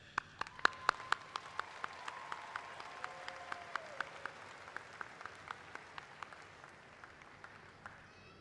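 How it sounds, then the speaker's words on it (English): Commencement audience applauding graduates at an evening ceremony, a faint, distant wash of steady clapping with scattered sharper individual claps, no voices. "I will take the lead in applauding you"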